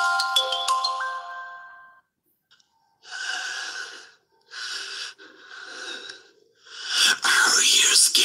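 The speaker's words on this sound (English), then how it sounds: "there's our first unknown phone call." A phone ringtone for an unknown caller in the mystery game Duskwood plays as a clear, tonal, repeating melody for about two seconds, followed by a pause and then eerie breathy whispers and gasps.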